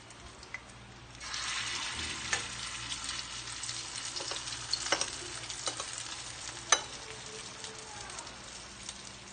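Filipino food fries in a pan with a soft, steady sizzle and bubbling, dotted with occasional stirring clicks and pops, fairly faint and close.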